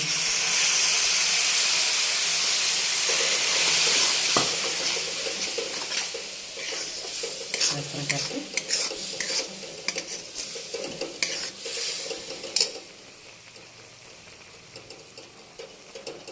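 Guar bean curry masala simmering with water in a pan gives a loud, steady sizzle and hiss for the first half, then quiets to a softer bubbling with light stirring clicks and scrapes near the end.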